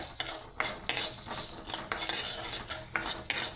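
Ingredients for tamarind pulihora powder dry roasting in a pan, heard as close, rhythmic scraping and clinking of a spatula against the metal with dry rustling between strokes and no sizzle.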